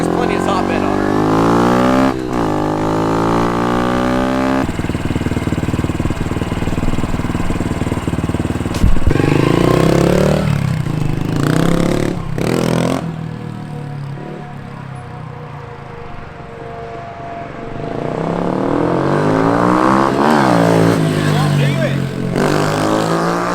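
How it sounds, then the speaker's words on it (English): A motorcycle engine revs and pulls hard while being ridden, rising and falling through several gears, loud and close, with wind noise and a short quieter stretch between runs. "I definitely notice it being just a smidge bit slower than Chris's on the low end, but it feels like there's plenty of top end on her."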